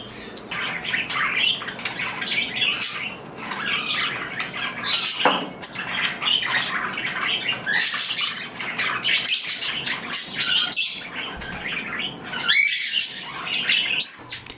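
Budgies and cockatiels in an indoor bird room keep up a busy, overlapping chatter of sharp squawks, chirps and tweets, fairly close, with a brief flutter of wings partway through.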